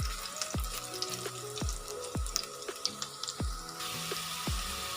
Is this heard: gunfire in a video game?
no